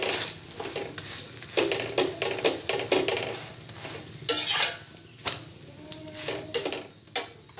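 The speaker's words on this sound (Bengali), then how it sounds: "চেপে চেপে দেবো এরকমভাবে আমি সবগুলো ভেজে নিই" Egg rolls frying in a pan, pressed down with a spatula: an irregular run of close scraping and stirring clatter over a low sizzle, with a louder hissing burst midway.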